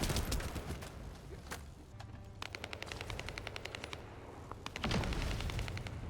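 Rapid automatic gunfire in the shooter game The First Descendant, with dense sustained bursts of repeated shots close up, pausing briefly and then resuming as loud continuous volleys.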